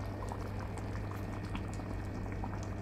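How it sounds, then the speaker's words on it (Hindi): Green dal with sprouts and drumsticks boiling on a low flame, a steady close bubbling and popping that runs throughout with no talk. "इसे अच्छी तरह से बॉईल होने दो 5 मिनट के लिए लो फ्लेम पे।"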